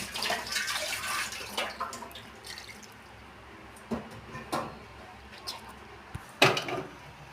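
Kudampuli, the Malabar tamarind, is washed in water by hand, giving close, irregular splashes, drips and sloshes with brief louder splashes scattered across a quiet background.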